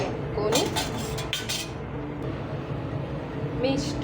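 Metal utensils clink as a cooking pot is set onto a mixie jar while gravy curry is prepared, a few sharp clatters early on and one more near the end, with a voice talking in the background.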